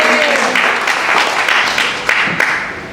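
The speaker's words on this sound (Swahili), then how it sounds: "Tupige Bwana makofi mengi." A church conference audience claps together in sustained, dense applause at close range, tapering slightly toward the end.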